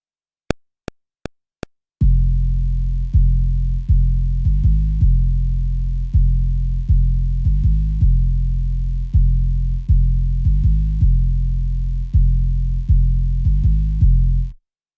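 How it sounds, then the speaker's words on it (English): Four sharp clicks open the pattern, then a loud, distorted 808 bass drum beat plays alone in a simple repeating rhythm, with booming low hits of varied length looping for about twelve seconds. "The 808 pattern sounds something like this."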